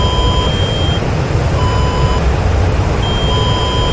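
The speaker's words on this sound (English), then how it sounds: "I'm getting some beeping as well." A cockpit warning in the AJS37 Viggen in DCS World beeps in steady, evenly spaced tones, each about half a second long, loud over a constant engine hum.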